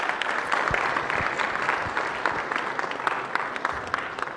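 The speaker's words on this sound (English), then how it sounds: "Please give a big applause to Frank." Audience applause at a live-streamed talk session, steady dense clapping from a crowd throughout, fairly close and sustained without talk.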